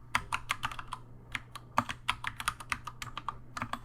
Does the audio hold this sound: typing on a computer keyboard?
yes